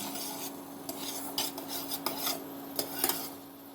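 A kitchen utensil scrapes and clicks against a pan as a soft homemade fudge is gently cut into pieces, a quiet series of irregular taps and rasps with no speech.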